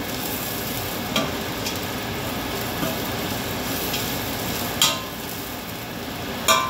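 Garlic frying in oil as the first step of Filipino arroz caldo, a steady close crackling sizzle with a few louder pops and stirring scrapes now and then, no voices.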